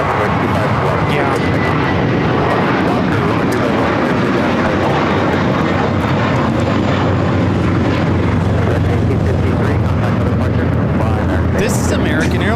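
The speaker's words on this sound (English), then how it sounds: "This is American Airlines 1853 taking off to Chicago on the A321." An American Airlines A321 bound for Chicago roars down the runway on takeoff at LAX, a loud, sustained broadband engine rumble with voices talking over it throughout.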